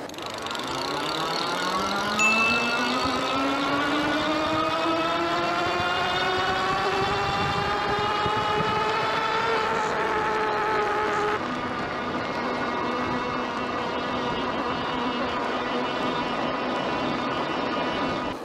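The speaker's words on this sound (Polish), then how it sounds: "silniczek Bafanga pięknie zapodaje. Naprawdę fajny dźwięk." Bafang electric bike motor whirring under load while riding on a fat tire, a rising then steady tonal whine with wind and rolling noise, close and clear with no talk over it.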